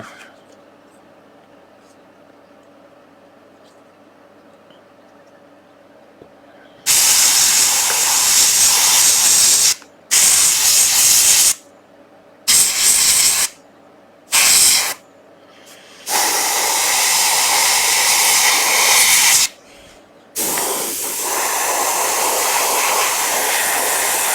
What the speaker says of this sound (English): you want to keep the airbrush moving as well while doing it.